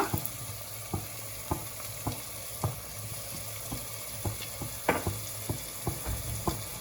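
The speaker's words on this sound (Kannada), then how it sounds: "ರೋಸ್ಟ್ ಆಗೋ ಥರ ಚೆನ್ನಾಗಿ ಫ್ರೈ ಮಾಡ್ಕೊಳ್ಳಿ." Chili powder and garam masala frying in a pan for Naidu-style mutton biryani, a low sizzle broken by regular scraping strokes of a spoon against the pan about once a second, quiet and close with no speech.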